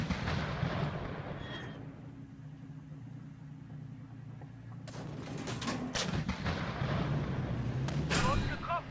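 Tank cannon fire in a video game, with sustained rumbling battle noise, engine drone and a burst of sharp impacts near the end, under some game voice chatter.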